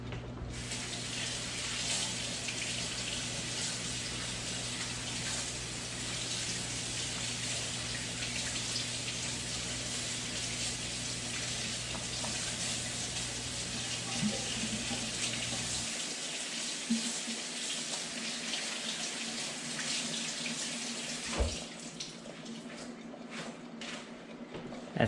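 A kitchen tap runs steadily into a sink while vegetables are washed for a vegan, gluten-free Thai noodle bowl. The close, continuous splashing rush lasts throughout, with a low background hum dropping away partway through and a few clinks near the end.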